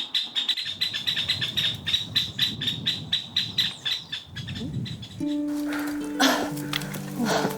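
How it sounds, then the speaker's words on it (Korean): Birds sing in a mountain forest on Samaksan in Chuncheon: a rapid, rhythmic series of repeated chirps rings out clearly for about five seconds, then gives way to a different, busier mix of calls and sustained tones. "온 산에 울리는 새소리가 잘 있다는 숲의 안부 같다"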